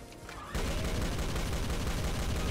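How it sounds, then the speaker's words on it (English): Super shotgun fire in the video game Doom: a dense, loud, unbroken roar of blasts bursts in suddenly after a brief quieter moment and holds steady until the end. "Ooh, super shotgun."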